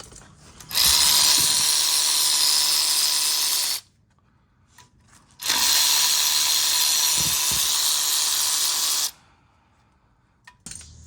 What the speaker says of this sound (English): I'm gonna grab my 10 mil and take all these nuts off